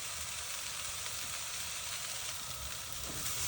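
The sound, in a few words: vegetables sizzling while being sautéed in a pan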